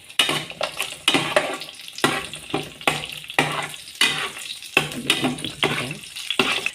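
White cumin seeds and five or six whole dried chilies frying in hot oil in a pan, a steady sizzle broken by repeated scraping and stirring clatter, close and fairly loud with no talking.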